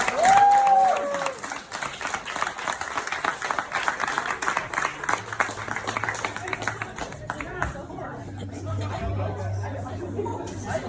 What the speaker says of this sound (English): Give it a huge round of applause